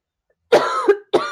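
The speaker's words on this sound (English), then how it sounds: "I have to cough, so excuse me." Two harsh coughs from one person, close and abrupt, the first with a quick double catch, separated by a short silence.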